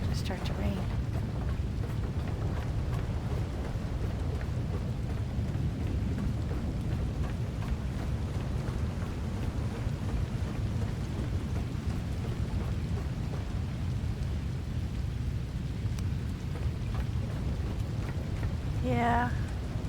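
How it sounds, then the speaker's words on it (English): Rain pours steadily in The Last Caretaker with deep thunder rumbling underneath, a constant dense storm that runs the whole time with a voice talking over it. "And of course it's going to start to rain."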